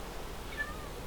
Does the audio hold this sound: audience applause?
no